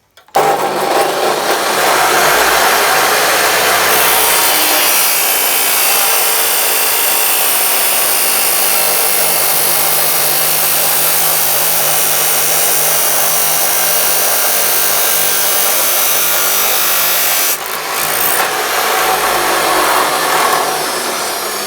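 A Metabo CS 23-355 metal cut-off saw grinds loudly and steadily through 5 mm thick steel strip, a harsh continuous broadband roar with a brief dip near the end before it resumes.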